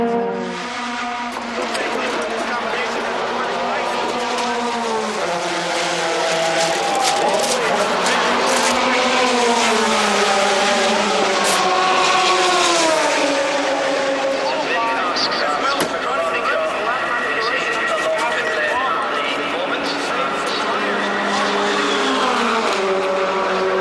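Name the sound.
009 Aston Martin race car diving into the pits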